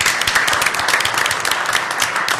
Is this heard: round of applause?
yes